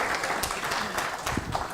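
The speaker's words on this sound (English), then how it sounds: "Hey, gentlemen, can you clap for me?" Gentlemen in a symposium audience clap on request, a dense, even patter of many hands filling the room for a brief stretch.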